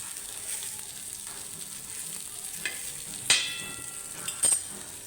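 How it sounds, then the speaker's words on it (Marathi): Fish frying in a little oil in a pan on a gas stove, a steady close sizzle with a couple of brief clinks of a utensil against the pan. "गॅसवर असं भाजून घ्यायचे"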